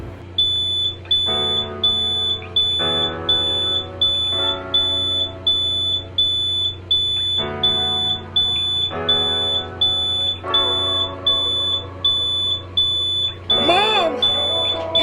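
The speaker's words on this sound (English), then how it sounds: "The fire alarm's going off." A smoke alarm set off by grease smoke from oatmeal cooking sounds a loud, piercing beep in a steady repeating pattern, with a voice briefly heard toward the end.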